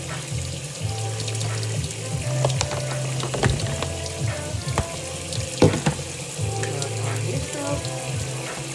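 Hot water runs from a tap into a sink for tie-dye work, a steady close splashing stream with a few clinks and knocks over it. There is no speech.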